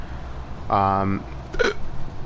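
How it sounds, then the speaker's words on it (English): A single sharp, voiced hiccup bursts out close to the microphone, followed a moment later by a second short vocal catch over quiet background hum. "Goddamn hiccups to hell and back."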